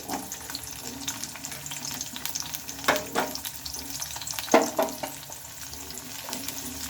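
Chopped carrots and spring onion stir-fry for fried rice in a hot pan, giving a continuous sizzle with intermittent scraping and tossing bursts from stirring, close and fairly loud.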